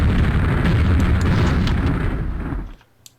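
Grenades thrown by an ogre enemy in the game Aftershock burst in a loud, sustained rumbling blast that fills most of the moment, then cuts off into near silence with a small pop at the end.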